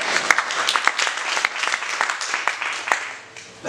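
A Pentecostal church congregation at Cornerstone Pentecostal Church breaks into lively applause, with many sharp, uneven claps rising and dipping over a few seconds and faint voices mixed in.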